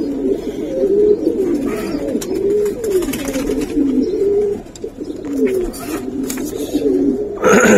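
Giribaz and colouring pigeons coo in steady, overlapping low warbling calls close by, with brief clatter and movement noises among them.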